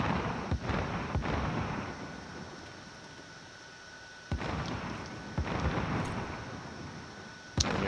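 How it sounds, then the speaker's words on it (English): Gunshots in Call of Duty Warzone (Modern Warfare) sound as a handful of sharp, scattered cracks over a steady rumbling battlefield background, some near and loud, others softer. "All kinds of shots popping off."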